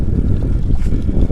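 Strong wind buffets the microphone outdoors on a hike near the water at Port Mahon, a steady loud low roar filling the whole moment with no voices.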